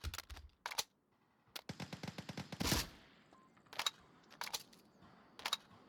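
Automatic rifle fire from a Mark 18 in the VR shooter Onward during a competitive match: several sharp bursts of rapid shots, including one long dense burst, interspersed with quieter single cracks and game ambience.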